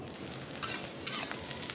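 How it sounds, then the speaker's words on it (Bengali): Sliced onion fries in hot oil with panch phoron and a dried chilli, crackling softly in a pan, with two brief louder sizzling bursts as it is stirred and no talk. "দিয়ে তার উপরে কেটে রাখা পেঁয়াজটা দিলাম। পেঁয়াজটা একটু লাল লাল করে ভেজে নেব।"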